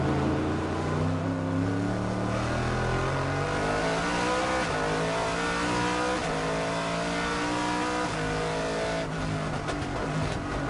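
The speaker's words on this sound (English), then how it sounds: "Lovely noise from that V8." Onboard a Nissan GT1 race car, its V8 engine roars loud and continuous, rising and falling through gear changes with steady revving around a wet track in Beijing.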